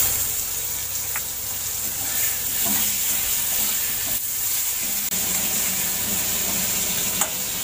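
Potatoes fry in a pan over a high gas flame with salt added, giving a steady sizzling hiss with occasional stirring scrapes and clinks.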